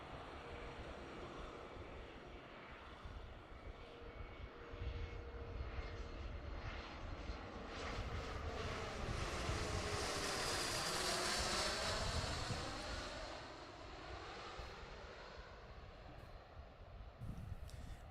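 A jet airliner flies into Seattle airport, its engine roar swelling as it passes nearby and peaking before fading back into a steady distant rumble, with no talking.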